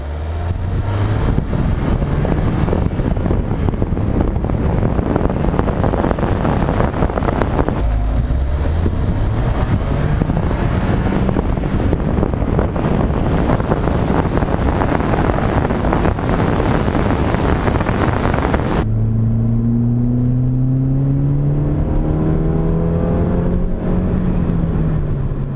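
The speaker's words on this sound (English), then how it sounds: "Now, let's go for a drive in the Fiesta ST." A Ford Fiesta ST with its stock airbox and filter is driven on the road, its engine rising through gears under heavy wind buffeting, then pulling with a clearer, steady drone toward the end.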